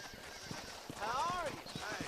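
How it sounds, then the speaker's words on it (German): Horse in the Western video game Red Dead Redemption gives a rising, wavering whinny over a steady rhythm of clip-clopping hooves, close and fairly loud, with faint background game ambience. "This steed looks right tetchy, I don't mind telling."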